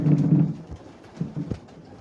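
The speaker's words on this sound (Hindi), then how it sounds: "ये कबूतर जी बिल्कुल टॉनी टॉनी ब्रीड के कबूतर।" Tony breed pigeons on a Lahore rooftop give a close, low coo at the start, followed by a few fainter, shorter coos over quiet background.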